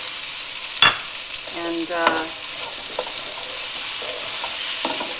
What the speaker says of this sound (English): And we're ready to add the potatoes.